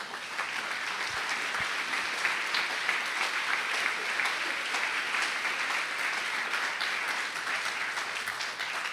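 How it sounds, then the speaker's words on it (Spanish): Sustained applause from a church congregation during a Sunday service, a continuous, even roar of many hands clapping for about nine seconds, heard from a distance and not loud. "¿Cuántos le dan un aplauso a nuestro Rey,"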